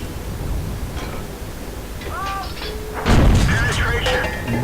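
M18 Hellcat tank gun firing in the World of Tanks video game, one heavy boom landing mid-clip over steady engine rumble and game sound effects, with someone talking.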